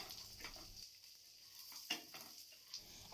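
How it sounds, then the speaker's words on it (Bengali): Cashews and walnuts are stirred in a pan for energy laddoos, with a faint dry scraping and light sizzle broken by a few quiet clicks of the spoon against the pan. "এর সাথেই কাজু বাদামটা আর ওয়ালনাটস যেটা আছে সেটা দিয়ে দিল আবারও একটু দশ সেকেন্ড নাড়াচাড়া করে নিচ্ছে"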